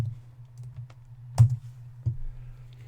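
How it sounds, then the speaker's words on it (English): A few sparse keystrokes on a computer keyboard, close and quiet, with a couple of sharper clicks over a steady low hum. "I'll just type this in here"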